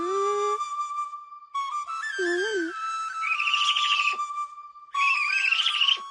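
Cartoon character's whistled call imitating Veer Singham's call in an animated Little Singham movie, a sequence of clear, sustained tonal whistles with sliding and warbling pitches, bright and close, broken by short gaps.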